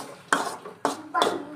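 A utensil knocks and scrapes three times against a metal pot while stirring sugar syrup for homemade cotton candy, each stroke a sharp clatter followed by a short scraping trail, fairly quiet and close.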